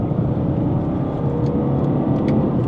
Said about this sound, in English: It's a diesel engine that loves to rev.